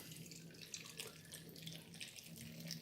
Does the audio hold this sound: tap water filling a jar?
yes